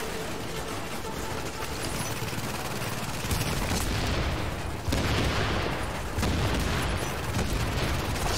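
Sustained gunfire in the video game The Division, a loud, dense barrage of overlapping shots and bursts that runs continuously throughout with no talk.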